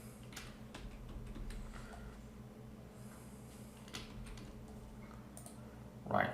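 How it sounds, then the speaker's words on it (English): Shift and arrow keys on a computer keyboard pressed while rotating brush strokes in Photoshop: scattered soft, close clicks over a steady low electrical hum, with a louder bump near the end. "So we can use shift and right or left arrow keys"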